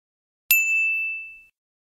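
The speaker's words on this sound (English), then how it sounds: "I will set the timer for getting a notification on lock, plus the sound" A single clear ding rings out as the GNOME 3.36 lock screen notification sound, a bright chime that decays over about a second in otherwise total silence.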